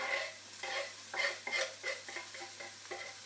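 Garlic added to a hot pan with rice, a faint sizzle with repeated stirring scrapes and clinks coming in irregular bursts.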